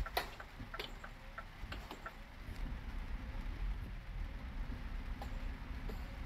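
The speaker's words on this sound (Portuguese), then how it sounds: "A chuva tá muito forte." Heavy rain falls steadily, a dense hiss with scattered sharp drop ticks on a nearby surface, continuous throughout and without speech.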